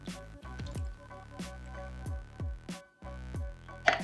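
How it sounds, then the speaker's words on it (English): Canned peaches and their syrup are poured into a baking dish, giving a series of wet, squishy plops and drips at close range over a faint tonal background. "now we're gonna get our canned peaches with the syrup and everything, and we're just gonna pour them in here"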